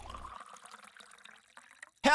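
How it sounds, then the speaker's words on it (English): Tea is poured from a teapot into cups in a cooking club room in a visual novel game, a faint, soft trickle of liquid that fades before a brief louder sound at the end. "she pours cups of tea from the teapot set up in the cooking club room"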